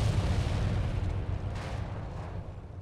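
Rocket strikes from a Hawker Typhoon in a flight simulator game: a dense, low rumbling blast that swells and rolls on for several seconds, loud and heavy in the low end with a faint hiss fading near the end.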